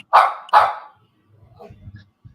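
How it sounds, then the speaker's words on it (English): A dog gives two sharp, loud barks in quick succession, followed by faint low murmuring and rustling in the background. "The dog's hyped about it."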